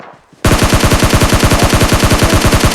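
Sustained automatic gunfire from PUBG Mobile Lite gameplay, a rapid, evenly spaced burst of loud, close shots starting abruptly after a brief quiet moment and continuing without pause.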